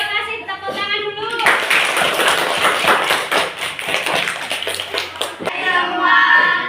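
Classroom applause from students in a teacher-training lesson, a dense burst of hand claps lasting several seconds, with a teacher's voice speaking before and after it.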